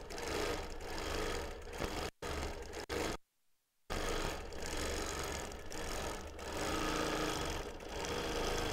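A sewing machine quilts a memory quilt of mixed fabrics, its loud continuous motor hum running almost throughout and cutting out briefly for a moment of near silence partway through.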